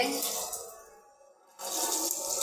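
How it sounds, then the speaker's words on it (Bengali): Cut beef tripe being washed, water splashing and sloshing loudly up close, dropping away to near silence for a moment before the rushing pour picks up again. "এখন ধুয়ে নিচ্ছি পুরিগুলা ধুয়ে নিচ্ছি"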